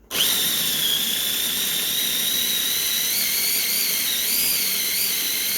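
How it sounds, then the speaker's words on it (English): A food processor grinds chickpeas for a vegan burger, a loud steady high-pitched motor whine that holds for the full stretch and wavers slightly in pitch, with no talk over it. "We want to grind this until it's nice and smooth."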